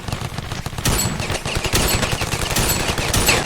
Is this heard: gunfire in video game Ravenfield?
yes